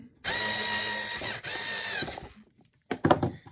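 A powered driver runs a screw into the steering assembly of a Tamiya TT-01 Type E radio-control car chassis, giving a close, loud whirring buzz in two bursts, then a few clicks and small handling rattles.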